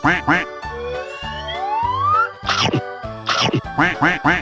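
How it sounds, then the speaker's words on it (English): Repeated cartoon duck quacks, loud and close, in quick rhythmic bursts with a nasal toy-like tone, mixed with music and cheerful animated voices. "Quack, quack, quack, quack, quack, quack."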